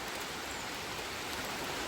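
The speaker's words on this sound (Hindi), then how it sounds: "देखो बारिश शुरू भी हो गई" Rain starts to fall, a steady, even hiss of rainfall at moderate distance with no voices over it.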